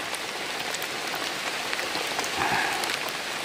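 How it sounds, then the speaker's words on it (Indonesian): Heavy rain pours down steadily and close by in an evening outdoor setting, a dense continuous hiss of drops drumming on surfaces, with no voices. "Ini hujannya kok tambah deras."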